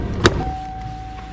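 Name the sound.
car door alarm going off as door opens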